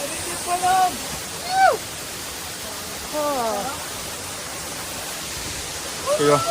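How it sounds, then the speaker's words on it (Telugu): Steady broadband rush of falling water at Katiki Waterfalls fills the background while a person talks over it in short bursts. "గిదే కాటికి వాటర్ ఫాల్స్"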